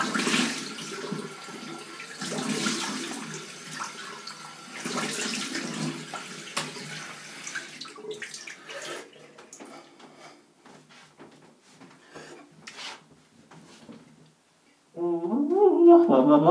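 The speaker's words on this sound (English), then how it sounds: "I'm rinsing it with cold water now, Alex." Cold tap water runs while a Gillette Aristocrat razor is rinsed under it, a close, steady splashing hiss that thins and drops away, followed by a short burst of louder sound at the end.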